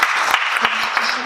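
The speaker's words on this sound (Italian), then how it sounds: "facciamo un altro applauso" Audience applause at an evening talk, a dense steady clapping heard throughout at moderate loudness, with a few sharper individual claps standing out.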